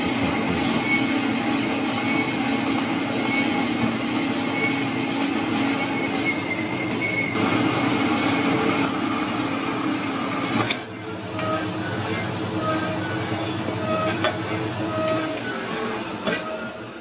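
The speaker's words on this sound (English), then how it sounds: "I'm just going to cut that down with a bandsaw" A cheap bandsaw cuts down metal stock for vice jaws in a home machine shop, giving a steady, close grinding whine with a faint squeal that shifts briefly partway through and then carries on.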